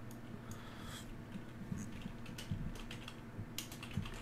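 Quick, uneven keystrokes on a computer keyboard, clattering near the mic in irregular bursts over a low steady background hum.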